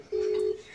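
A single phone call tone sounds as one steady, mid-pitched beep of under half a second, fairly quiet, with no voices.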